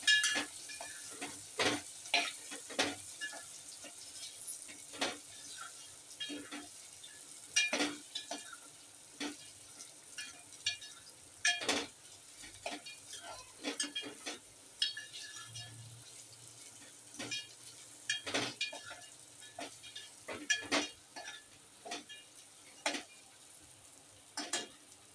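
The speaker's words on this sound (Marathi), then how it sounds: "हे पण थोडंसं आपण फ्राय करून घेऊया तेलामध्ये" Peanuts, corn and green peas frying in oil for sevai upma, with a steady soft sizzle broken by repeated sharp clicks of a spoon stirring against the pan, close and fairly quiet, with no talking.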